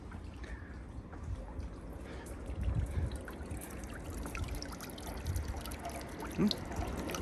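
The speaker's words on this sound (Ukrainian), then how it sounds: "Я навіть там у вітальні сиджу і чую е, звуки цієї води" Water trickles and dribbles softly and continuously, a faint gentle flow with occasional small splashes.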